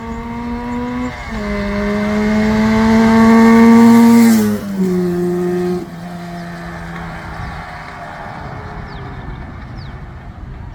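A Yamaha RD 350 two-stroke motorcycle engine climbs steadily in pitch as it revs up, drops sharply after a gear change, then settles into a lower, quieter hum on a wide road.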